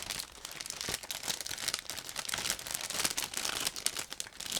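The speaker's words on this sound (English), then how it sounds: "as you can hear, I'm opening another plastic bag" Thin plastic bag holding parts of a Zvezda 1/48 Yak-9T model kit being opened, giving a close, continuous crinkling and rustling with sharp crackles and small tears throughout.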